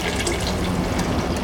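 Water poured into a pot of venison stock for a braised venison roast, a brief steady splashing gush of liquid, close and fairly loud.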